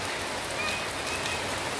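Heavy rain falls at a resort near Baguio in a loud, constant wash of noise that stays even from start to finish.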